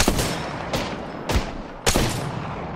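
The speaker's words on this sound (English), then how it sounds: "Oh, I am taking fire, friends." Gunfire in a video game hits the player, several sharp, loud bursts in quick succession with rattling impacts, a short tense fusillade without talk.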